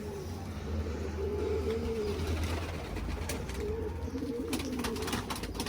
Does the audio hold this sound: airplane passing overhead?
no